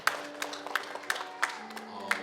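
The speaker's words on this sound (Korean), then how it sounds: "다시 한번 감사로 좀 박수할까요?" Scattered applause from a church congregation at a Sunday worship service, moderately loud with a few sharper individual claps rising above a soft background of hands and low murmuring.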